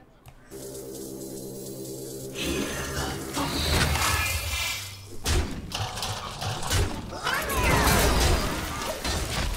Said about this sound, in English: Missile launcher doing some work.